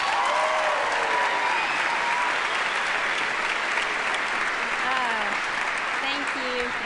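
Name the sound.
audience applause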